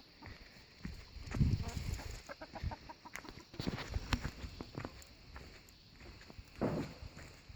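A chicken clucks around an off-grid cabin, a few soft, scattered clucks mixed with shuffling footsteps nearby.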